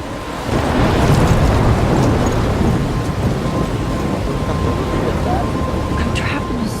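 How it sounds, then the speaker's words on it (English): Thunderstorm with heavy rain in the video game Life Is Strange, a dense steady roar of rainfall with a low rumble of thunder swelling early on, continuous and loud throughout. "I'm trapped in a storm?"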